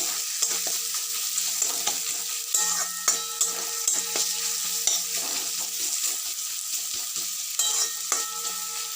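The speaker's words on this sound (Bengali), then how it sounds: "পেঁয়াজ কুচি দিয়ে ভালো করে নেড়ে নেড়ে ভালো করে ভেজে নিচ্ছি" Chopped onions fry in a pan with a constant sizzle while a spoon stirs and scrapes them in irregular knocks and clatters. The onions are the start of a chicken filling for stuffed pointed gourd, and no voices are heard.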